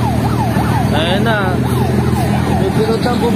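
A fire truck responding to a fire in Antipolo, Rizal wails with a loud, close siren that sweeps up and down in pitch, repeating over a rumble of engines and traffic.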